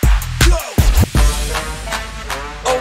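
Trap DJ routine loop mixed on a Hercules DJControl Inpulse 500, with loud punchy bass hits and a rhythmic beat that drops out briefly before the loop comes back in, playing alone without talk.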